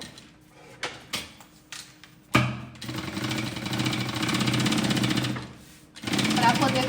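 A sewing machine stitching around the back of a luxury cosmetic bag, starting with a few short bursts and knocks, then a long steady mechanical whir that pauses briefly and resumes, close and fairly loud.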